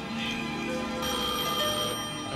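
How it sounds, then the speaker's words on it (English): A telephone bell ringing loudly and continuously at night, a dense metallic jangle filling the whole clip with no pause, heard close and without speech. "answer that phone."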